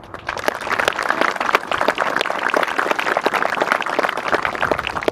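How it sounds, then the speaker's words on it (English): A military awards audience applauds the FY21 Camp Pendleton Marine Corps Marksmanship Competition rifle champions and award winners, producing a dense, steady burst of many hands clapping that holds evenly loud from start to finish. "Distinguished guests, please give a round of applause"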